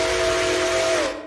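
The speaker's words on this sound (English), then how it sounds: "We got 765's Nathan 6 chime." Railroader game whistle, the 765's Nathan 6-chime: one loud, sustained chord blast with a steady hissing steam edge, cut off after about a second as it fades out.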